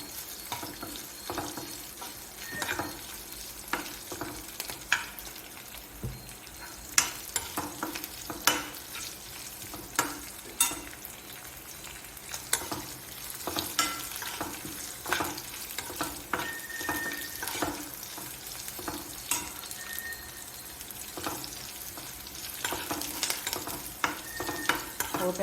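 Tempering spices sizzle and crackle in hot oil for a Telugu ponnaganti greens and dal dish, with a steady frying hiss broken by frequent sharp pops and occasional stirring scrapes, close and continuous with no talking.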